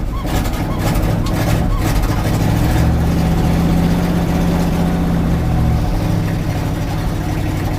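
A 1960 Chevy truck engine idling just after a cold start, a steady loud low rumble with an early uneven burst of revving before settling, and a person talking briefly.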